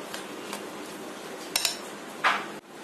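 A utensil clinks and scrapes against a bowl while malpua batter of wheat flour, milk and cardamom powder is stirred, with a few light taps and one louder scrape, near and quiet.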